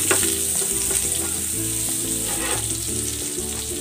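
Chopped onion sautés in butter and a little oil in a pan, a loud, dense, continuous sizzle close by with faint stirring bumps and no voices.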